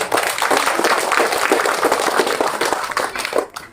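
A church congregation of the Gereja Toraja Mamasa applauds as a new autonomous congregation is inaugurated, a dense steady wash of many hands clapping that fills the room at close, even loudness.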